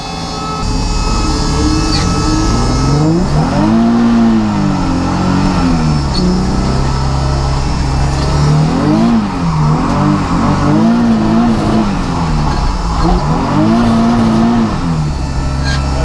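A twin-turbo Nissan 350Z drifts a lap on a track, its engine loud and close. Revs rise and fall in repeated swells while the tyres squeal and skid. No voices are heard.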